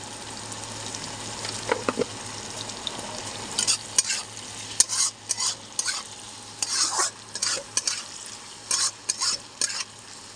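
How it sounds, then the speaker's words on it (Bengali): Onions frying with salt in a pan for a Bengali chicken kosha, steady close sizzle with repeated stirring scrapes and clicks growing busier through the second half, no voices. "পেঁয়াজটা দিকে ভাজা হচ্ছে বন্ধুরা।"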